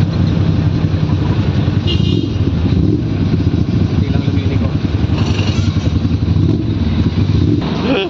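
A Harley-Davidson motorcycle engine rumbles steadily on the road, with surrounding traffic and a car horn. People talk over it throughout.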